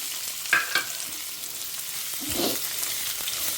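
Mustard seeds, urad dal and onion fry in hot oil in a pan, a close, even crackling sizzle with a couple of sharp clinks early on and a stirring scrape later, no talk.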